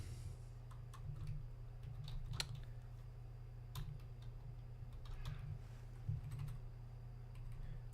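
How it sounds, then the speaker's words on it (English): Faint keyboard typing as a search query is entered on a computer, a few soft scattered key taps over a steady low hum, no talking. "We'll type it in here."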